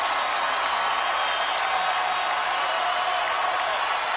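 A basketball arena crowd at a Baylor at Kansas game roars loudly and steadily, a dense, continuous wash of cheering with no break.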